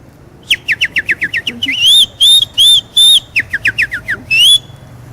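A person whistles an imitation of the burrión bird call: a run of quick descending chirps, then several longer sustained whistled notes, then more rapid chirps and a final held note, close and loud with no talk.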